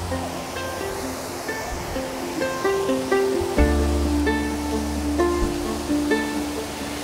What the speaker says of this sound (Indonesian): Suara itu adalah air yang mengalir deras di tengah sawah.